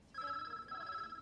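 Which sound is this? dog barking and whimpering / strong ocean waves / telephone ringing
telephone ringing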